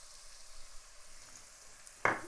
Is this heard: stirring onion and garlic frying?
yes